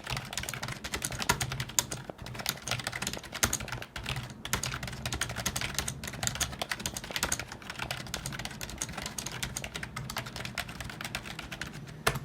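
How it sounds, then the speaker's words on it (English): Steady rapid typing on a Razer Cynosa Chroma RGB keyboard, a dense run of close key clicks and taps with no pauses, heard alone without talk. "you're going to be able to hear what the Razer Cynosa Chroma sounds like. So I'm just going to type some words now"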